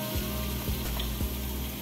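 Chopped onion sizzles and fries in a hot pan, a loud steady crackle with a few stirring scrapes, no voices.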